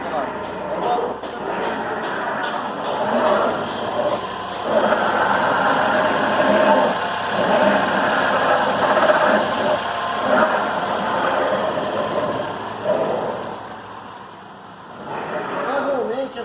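A Ford Fusion's engine runs steadily while its steering makes a rough, grinding mechanical noise, heard close up with someone talking over it.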